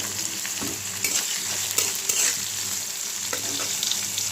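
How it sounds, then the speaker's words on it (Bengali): Onions frying in a pan give a steady close sizzle with a few soft stirring scrapes, no voices. "পেঁয়াজটা হালকা ভাজা হয়ে গেছে"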